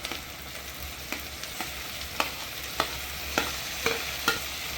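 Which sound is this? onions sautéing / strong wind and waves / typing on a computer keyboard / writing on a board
onions sautéing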